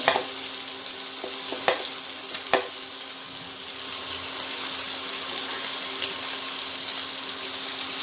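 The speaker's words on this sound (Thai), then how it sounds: "เดี๋ยวเราต้องมาผัดกับผักอีก ใส่หอยลงไปเลย" Shellfish and vegetables stir-fried in a pan for a dry seafood suki, a loud hissing sizzle with a few sharp clanks and stirring scrapes early on, then a continuous close crackle with no one talking.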